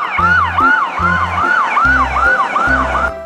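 Toy police car siren: a loud, close electronic wail sweeping up and down in rapid, regular cycles, layered with a pulsing low honking tone, repeating about seven times before cutting off abruptly.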